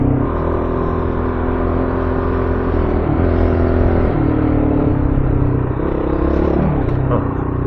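An adventure motorcycle on a backcountry road near Bend, Oregon, revs hard while lifting into a wheelie, a loud continuous close engine drone with shifting pitch as the throttle rises and falls.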